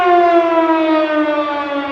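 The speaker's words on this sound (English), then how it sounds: "seven sirens is a fire" A fire siren sounds as one steady, loud wailing tone that slowly falls in pitch, with no voices over it.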